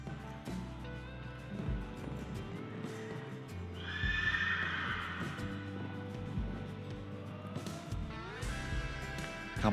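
A horse in a show-jumping arena at a young riders' team competition moves over the fences, with hoof clatter and a whinny over a busy background murmur of the venue.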